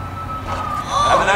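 Police car siren in the video game Saints Row 3, a steady wailing tone that rises and sweeps toward the end of a brief moment, heard over game noise.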